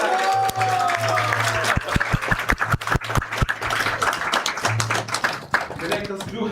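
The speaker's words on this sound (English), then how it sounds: "Let's give a big round of applause for that." An audience at a Sunday feast class claps, with brisk, loud, fairly sparse applause lasting several seconds over a steady low hum, and voices underneath.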